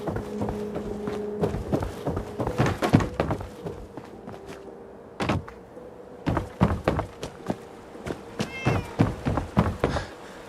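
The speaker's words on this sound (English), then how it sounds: "Two kitties." Cats in the video game Fallout 4 meow repeatedly, with mid-level calls spread across the stretch along with sharp thumps and clicks from the game, and no talking.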